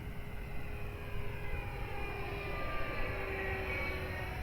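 An FMS Futura radio-controlled model airplane flies at a distance, its faint, steady electric whine holding a sustained tone against a broad background hiss.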